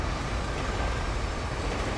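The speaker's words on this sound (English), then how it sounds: "Oh, it's a train coming through." A train rumbling past in GTA 5, a dense continuous roar of wheels and rail noise at steady loudness with no clear breaks.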